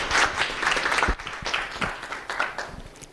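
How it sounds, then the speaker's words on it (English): Audience applause at a business conference opening after a panelist is introduced, a brief burst of clapping that rises quickly and fades within a few seconds. "Please welcome Mr. Chris Diaz with a round of applause."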